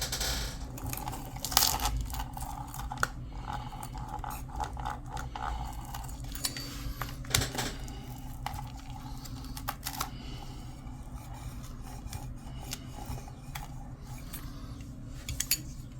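A knife or pizza cutter cuts through an air-fried low carb pizza on a Mission wrap, producing a long run of rapid crisp crunching clicks and scraping taps, close and fairly steady with occasional sharper knocks.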